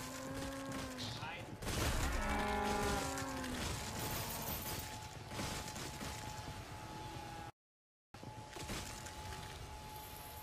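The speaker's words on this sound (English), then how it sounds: "Oh, coming over cows too." Cows moo in a zombie-shooting video game, with several drawn-out lowing calls arriving among bursts of gunfire and a sustained game tone, while a player talks over it.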